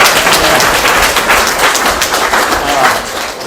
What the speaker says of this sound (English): let's give a round of applause for Jeremy